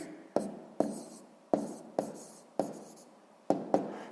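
A pen writes an answer by hand on paper during a sixth-grade math exercise: about seven short, scratchy strokes, each starting with a soft tap, heard close and quiet with no talking.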